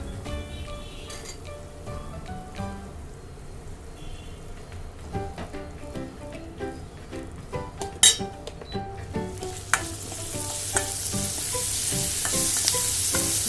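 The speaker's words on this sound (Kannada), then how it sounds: "ಈರುಳ್ಳಿ ಬೇಗ ಫ್ರೈ ಆಗುತ್ತೆ, ಸ್ವಲ್ಪ ಸಾಲ್ಟ್ ಹಾಕೊಳ್ಳಿ. ನಾವು ಇದಕ್ಕೆ ಕ್ಯಾಪ್ಸಿಕಮ್ ಹಾಕೋಬಿಡೋಣ." Onion with red and yellow capsicum frying in a pan, a steady sizzle broken by scattered clinks and stirring scrapes, growing brighter and hissier toward the end; no one speaks.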